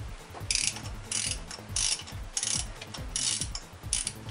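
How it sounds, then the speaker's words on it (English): A 3/8 ratchet turning a spark plug socket on an extension to loosen spark plugs, bursts of rapid pawl clicking repeating in a steady rhythm, close and clear with no voices. "take your spark plug socket and your 3/8 ratchet and extension"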